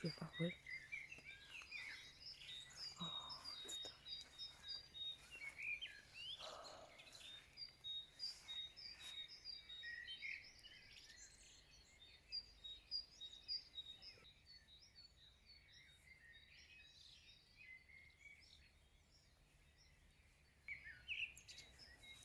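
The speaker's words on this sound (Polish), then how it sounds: "No i ptaki dają koncert." Birds sing in a dawn chorus shortly after 3:30 am, a faint, distant mix of chirps and trills spread over about twenty seconds against quiet background hiss.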